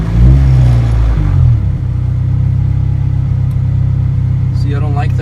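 A right-hand-drive Honda Integra being tuned, its engine revving loudly under throttle and then settling to a steady, close rumble, with a brief voice near the end.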